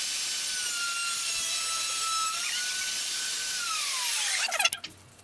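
Router table cutting wooden stiles and rails for a poster frame, a loud steady high whine of the spinning bit through the wood that winds down at the end with a few clunks.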